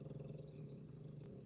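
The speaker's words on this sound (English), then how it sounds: "Excuse my dog and his snoring." A dog snores with a low, rumbling, rhythmic rasp, steady and close but quiet, in a short continuous stretch with no talking.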